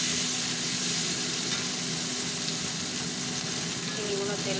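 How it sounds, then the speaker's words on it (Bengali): A pan of prawns sizzles in hot oil with a dense, even hiss throughout, close and steady, with faint stirring scrapes near the end. "চিংড়িগুলো তেলে গলেনি, হতে থাক ভাজা ভাজা"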